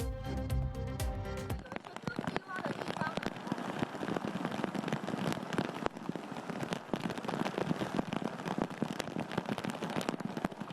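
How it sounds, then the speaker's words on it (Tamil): Heavy rain pours down hard during flooding in southern Taiwan, a dense, crackling roar of drops and splashes that follows a short burst of music at the start. "கொட்டி தீர்த்த கனமழையால் தெற்கு தைவானை சூழ்ந்த வெள்ளம்."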